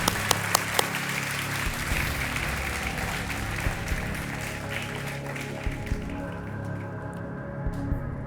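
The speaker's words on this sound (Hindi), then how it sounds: "तालियों के साथ आपका स्वागत।" A studio audience on a television quiz show claps in a dense, lively burst that gradually thins and fades toward the end, with a few sharper claps standing out near the start.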